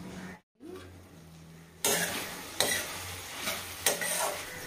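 Tomatoes with turmeric simmering in a pan for methi fried rice, with loud scraping stirs in bursts over a soft continuous sizzle and a brief quiet gap near the start.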